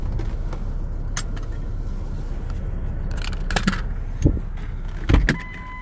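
Someone climbs out of a car at a park in La Quinta, with a low rumble behind brief handling clicks, rustles and a couple of dull thumps near the end, no talking.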